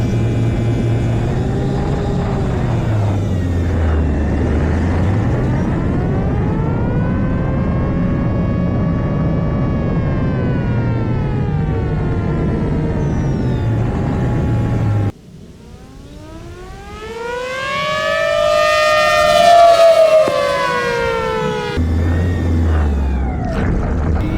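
A 3D-printed 8-port siren running slowly wails with rising and falling pitch, sluggish and drawn out, then briefly drops off before swelling up again, loud and close.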